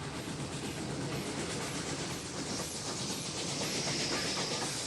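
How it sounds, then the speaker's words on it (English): Garrett steam locomotive at a train club with a leaking piston stuffing, a steady clickety-clack rumble and hiss with faint repeated high squeaks, continuous and fairly quiet. "Got a leak in one of the stuffings on one of those pistons. That's what the train sounds like at the train club."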